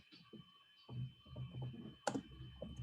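Keys clacking on a computer keyboard as shift and 6 are pressed, a quick cluster of close clicks and taps with a sharper burst near the end, alone.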